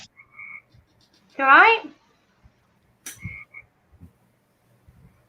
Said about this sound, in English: I love it when I can hear the frogs and the crickets